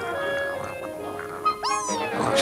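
A young kitten meows in a cartoon scene, a couple of short, bright mews rising over a background of music and soft ambient sound.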